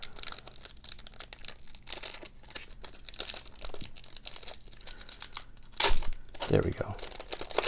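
A 1994 Stadium Club baseball card pack is torn open with a burst of loud crinkling and ripping foil near the end, after a quieter stretch of handling, while someone talks throughout.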